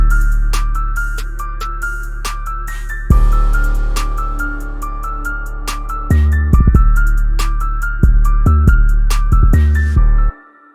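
Dark trap beat built in FL Studio, with booming 808 bass, rapid open hi-hats, crisp percussion and a looping melody, playing loud and bouncy with a stop-start break in the low end before cutting out.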